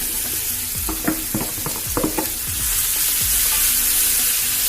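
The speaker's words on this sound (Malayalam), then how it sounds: "നമ്മൾ മാരിനേറ്റ് ചെയ്ത് വെച്ച അച്ചിങ്ങ പയർ ഇതിലേക്ക് ആഡ് ചെയ്ത് കൊടുക്കുകയാണ്." Marinated long beans for a spicy Kerala stir-fry drop into a hot pan with a burst of sizzling and several sharp stirring clatters, settling into a steady frying hiss with no talk.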